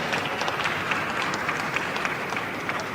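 Applause at a boxing press conference, a steady wash of many hands clapping at moderate volume, continuous from start to end.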